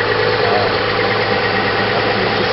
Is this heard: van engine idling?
yes